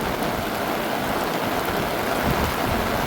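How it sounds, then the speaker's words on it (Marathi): Heavy rain pours down in a village in Vaibhavwadi, Kokan, a dense, steady, loud hiss of falling water with no break and no voices. "तुफानी एकदम जबरदस्त पाऊस"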